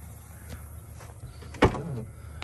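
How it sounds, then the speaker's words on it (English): A sliding door on a custom-built luxury off-road camper van with an air conditioner fitted in it, heard as one fairly close rolling thud with a short rumble, amid quiet background noise. "The door works just fine with the AC in it."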